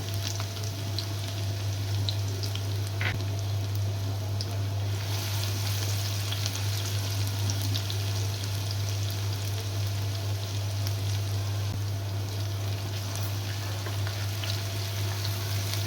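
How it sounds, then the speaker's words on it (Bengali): Chopped onion fries in hot oil in a wok, giving a steady, close, even sizzle that runs unbroken throughout, with a low electrical hum underneath and no voices. "এখানে কেটে রাখা পেঁয়াজ কুচি দিয়ে দিচ্ছি ভাজার জন্য।"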